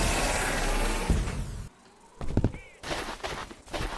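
Pistol fire in the Suicide Guy video game comes as several sharp, closely spaced bursts between stretches of dense noise, moderately loud.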